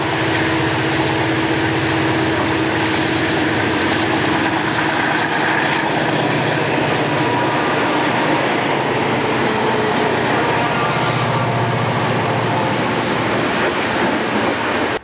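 A westbound train passes Emmaus Junction with a loud, continuous, close rumble and roar that holds steady for the whole stretch.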